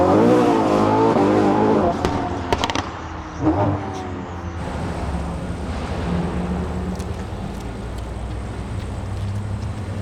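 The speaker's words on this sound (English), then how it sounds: "As soon as Vic revs it, you feel it on your chest." A loud, deep straight-piped, tuned Ferrari SF90 engine roars and revs up close, then settles into a steady, heavy rumble that continues throughout.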